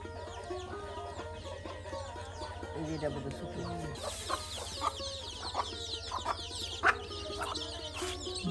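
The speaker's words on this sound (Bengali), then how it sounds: "বাহ কত মুরগির বাচ্চা দেখুন" Chickens and chicks cluck and peep around a village yard, a steady mix of soft calls with a few louder clucks near the end over a low background hum.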